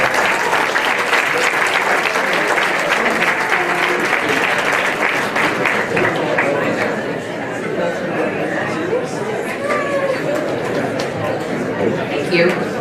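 Sustained audience applause fills an awards ceremony hall, dense and steady clapping from a large crowd with some chatter mixed in, easing slightly in intensity partway through.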